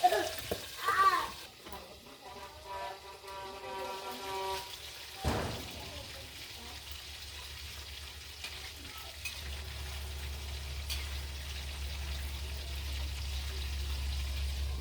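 Oil sizzles and crackles steadily as fish heads and fish bones fry in a pan, with some stirring and clattering early on.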